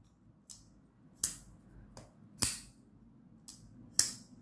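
Five sharp metallic clicks from the lock of a CRKT Razelcliffe compact folding knife with a titanium frame lock, engaging and disengaging at irregular intervals, crisp and close against a quiet background.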